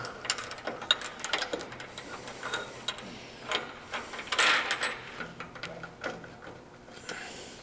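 A double hydraulic PWC lift bed rising gives off soft, irregular mechanical clicks and ratcheting ticks at a steady low level, with no voices.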